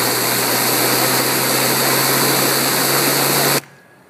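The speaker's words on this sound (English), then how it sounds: "you should get the highest pitch whining sound" A Driploc Stinger cleaning head spins at high RPM, giving a steady, loud, high-pitched whine with a constant low hum beneath it that cuts off abruptly near the end.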